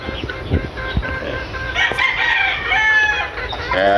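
A Battle Cross rooster in a backyard flock crows once, loud and near, its drawn-out call rising over scattered clucks and knocks from the surrounding chickens.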